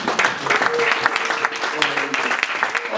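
A church congregation applauds and cheers during an evangelical service, a dense wash of clapping spread over the whole moment with voices mixed in and a sustained tone underneath.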